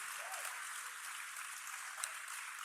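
A live podcast audience at the Aladdin Theater in Portland applauding, a dense, even wash of clapping from a large crowd, fairly distant and sustained throughout.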